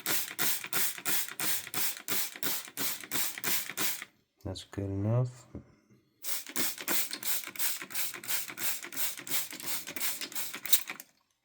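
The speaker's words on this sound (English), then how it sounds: "Nice little spray." A spray bottle misting mushroom growing blocks pumps rapidly in two long bursts of crisp, evenly spaced spritzes, separated by a short spoken remark.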